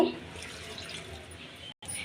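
A little water is poured into a kitchen mixer jar holding grated coconut, green chillies, garlic, onion, coriander leaves and cumin. The trickle is soft and steady and briefly cuts out near the end.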